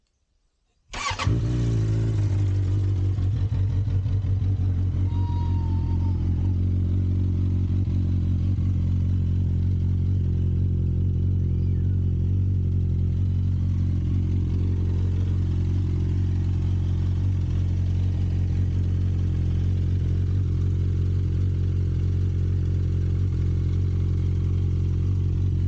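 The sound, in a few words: vehicle engine started with ignition, running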